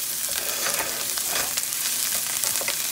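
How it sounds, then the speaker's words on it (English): Onions sauté in a hot pan for enchiladas, a continuous close sizzle punctuated by spatula scrapes and stirring clicks, with no voices over it. "Put my onions in. I'm just going to stir that up a minute. Saute them just for a little while."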